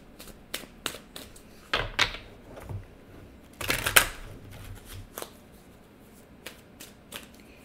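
Tarot cards shuffled and drawn by hand during a reading: a series of crisp, close riffles and flicks in irregular bursts, with two louder shuffles, and no talking.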